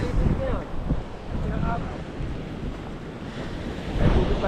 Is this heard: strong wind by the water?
yes